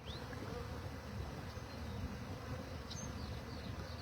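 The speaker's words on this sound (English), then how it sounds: "we have a big swarm in our Sturdy Farms apiary" A large honeybee swarm in an apiary hums with dense, continuous buzzing, close and steady, with individual bees whining past now and then.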